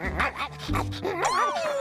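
A cartoon puppy in a Goof Troop scene gives quick yips and barks, then a rising, drawn-out whimper, close and loud, with no one speaking over it.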